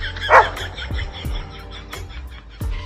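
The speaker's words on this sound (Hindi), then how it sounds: "कुत्ते बस भौंकने में ही माहिर होते हैं" A dog gives a few short, sharp barks spaced irregularly over a couple of seconds, close and fairly loud, with a little background noise between them.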